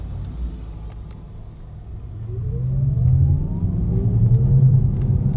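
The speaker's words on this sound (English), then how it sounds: "we can see how it sounds when we drive off as well." A 2021 Porsche Taycan Turbo S electric car pulling away, starting as a low hum and swelling into a louder rumble with faint rising whine tones as it gathers speed.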